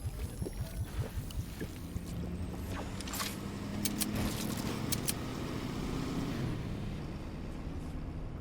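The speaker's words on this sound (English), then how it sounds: "hear this guy driving his truck" A truck drives in the video game Fortnite, a low rumbling engine rolling along under scattered game sound effects and clicks, moderately quiet and without talk.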